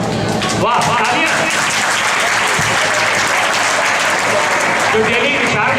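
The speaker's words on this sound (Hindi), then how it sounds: "वाह, तालियां।" Audience applause at a skill-development talk, steady dense clapping filling the room for several seconds at close range, with a voice speaking over it.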